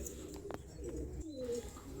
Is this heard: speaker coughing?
no